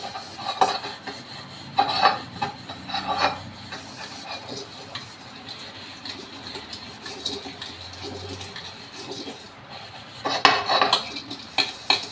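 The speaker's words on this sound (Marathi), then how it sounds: "आता याला मी ताराच्या कात्याने घासते." A steel wire scrubber grinds against a burnt metal pot in repeated rough, scraping strokes, with metallic clinks and knocks as the pot shifts, close and fairly loud.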